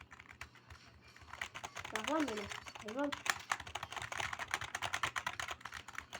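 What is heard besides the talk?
typing on computer keyboard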